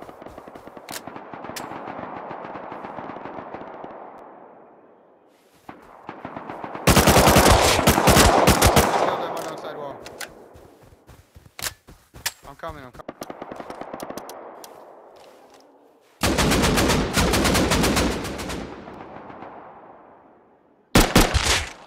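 Rapid automatic gunfire in the console version of the survival game Rust, coming in several loud, sharp bursts separated by quieter stretches of distant shots and background rumble.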